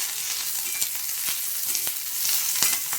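Green chillies fry in hot oil in a pan, giving a steady close sizzle with a few sharp crackles and pops throughout, with no voices.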